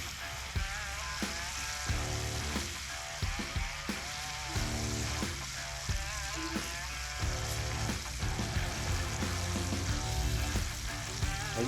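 Meat frying in grease that is getting hotter, a steady loud sizzle and crackle with faint stirring noises throughout, no talk.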